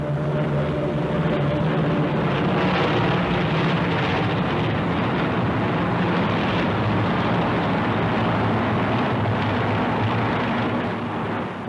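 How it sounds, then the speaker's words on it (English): Loud, steady engine drone from a 1940 RAF fighter formation in flight, a dense continuous roar that holds at an even level throughout with no pauses. "The rear aircraft of the formation weave about so as to keep an eye on possible enemy attacks"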